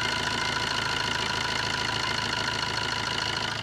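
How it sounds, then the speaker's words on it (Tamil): A Tata Bolt diesel car idles with a steady, even engine drone and a faint rhythmic knock, close and continuous with no voices. "இன்ஜினோட நாய்ஸை லைவாக கேளுங்க"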